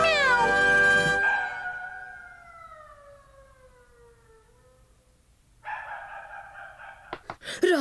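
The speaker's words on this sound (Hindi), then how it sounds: "केनिची बन गया बिल्ली" A cartoon cat gives a long, drawn-out meow that slides downward in pitch, fading to near quiet before brighter, sharper cartoon sound effects close it out.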